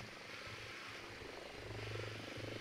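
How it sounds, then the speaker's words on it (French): A drone hovers in the video game Ghost Recon Breakpoint, a steady droning propeller whir that swells slightly midway and holds, fairly faint under the game's ambience. "Un drone aussi."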